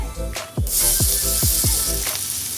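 Ginger dropped into hot oil already holding cumin seeds and asafoetida, cooked for a dry potato bhaji, bursts into a loud, steady sizzle about a quarter of the way in, with a run of low, rhythmic thumping strokes beneath it.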